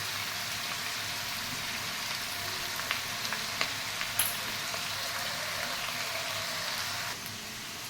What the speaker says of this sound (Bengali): দেখো, কচু আলুটা একটু ভাজা হয়ে গেছে।